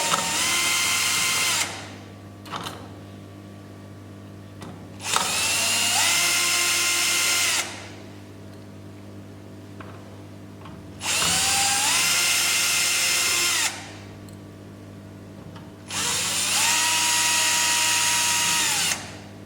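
Power screwdriver running in four long bursts of roughly two to three seconds each, separated by quiet pauses, while it backs screws out of an SPF5000ES solar inverter during a board replacement; the motor whine is loud and steady with no voices.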